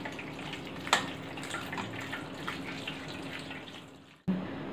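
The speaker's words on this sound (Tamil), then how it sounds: "இப்போ நம்ம இந்த தண்ணி விட்டு வாஷ் நல்லா இது பண்ணி எடுத்துக்கணும்." Water pours steadily over noodles being rinsed in a kitchen for a Chinese noodle recipe, a continuous splashing wash with a brief clatter near the start, then a sudden cut and a short resumption.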